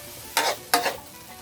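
Spicy frog curry with eggplant and garlic stir-fried in a pan, two short scraping, sizzling stirs close up, each a sharp burst fading into a low background sizzle.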